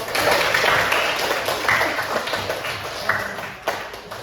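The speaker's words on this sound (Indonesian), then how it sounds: "Tepuk tangan dulu untuk" Classroom applause during an elementary school teaching session, a dense broadband patter of many hands clapping steadily for about four seconds, fairly close and loud, with a few sharper taps near the end.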